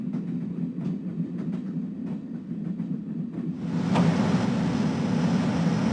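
A train rumbles steadily in the Broken Sword video game, a low continuous roll that grows louder and brighter with rushing wind partway through; no voices.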